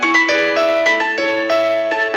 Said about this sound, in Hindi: अरे किस नुबड़े का फोन बज रहा है?